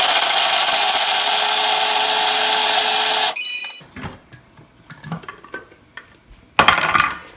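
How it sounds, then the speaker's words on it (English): A Thermomix-style food processor runs on high speed, speed 8, chopping a healthy chocolate ball mixture with a loud, steady whir, then stops, leaving scrapes and clatters before a brief burst of noise returns. "we're going to mix this for 15 seconds on speed 8, and it's going to be very loud"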